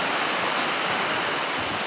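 Water pours steadily at Sticky Falls waterfall near Chiang Mai, a dense, even rushing roar that holds at a constant level throughout, with no voices.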